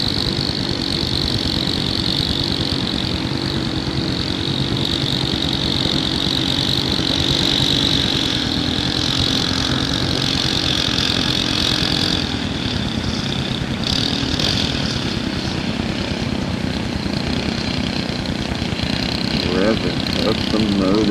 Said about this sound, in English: Revving up the motor.